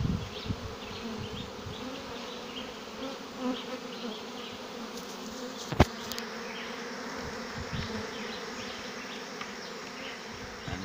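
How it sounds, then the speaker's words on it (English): A swarm of honey bees streams into a swarm trap on a sunny day, a dense, steady buzzing hum of many wings close by, with individual bees zipping past and one sharp knock partway through. "And bees are pouring in."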